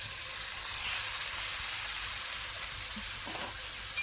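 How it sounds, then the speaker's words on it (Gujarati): Crushed tomato gravy goes into a hot pan, producing a steady broad sizzle and hiss that holds at an even level throughout. "હવે એમાં નાખીશું આપણે ટમેટાની ગ્રેવી, ક્રશ કરેલા ટમેટા"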